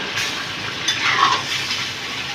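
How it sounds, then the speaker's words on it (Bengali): Chicken being stirred in a hot pan while cooking chicken patiala, a steady soft sizzle with a faint brief scrape partway through. "চিকেনটা আমি দিয়ে দিলাম, দিয়ে এবারে এটাকে আমি ভালো করে একটু নাড়িয়ে নিচ্ছি।"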